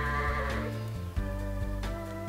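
A video-game lamb in Toca Life World bleats in a few wavering, nasal cries, close and clear, with no voices over it.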